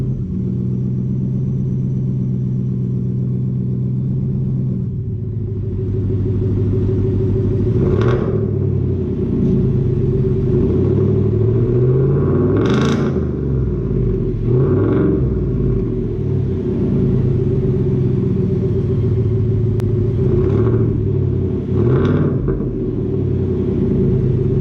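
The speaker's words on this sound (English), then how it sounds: "FLOWMASTER OUTLAW, this is definitely one for my younger crowd, and it sounds pretty cool. It's very raspy, but also super throaty." Ford F-150 5.0 V8 fitted with a Flowmaster Outlaw exhaust, a loud, steady raspy rumble at idle broken by several sharp throttle blips that rise and fall, close to the microphone with no talk.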